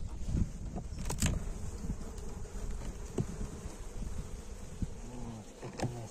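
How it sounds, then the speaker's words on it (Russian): Honeybees buzz actively inside a beehive in winter, a steady close drone of many insects with individual bees whirring past the microphone, no voices. "Вот, пчелка тут активная."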